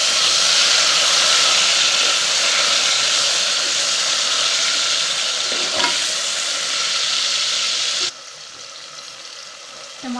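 Tomatoes fry in a pan with onions for lentil and bottle gourd dal, a loud steady sizzle and hiss close by that drops sharply quieter near the end.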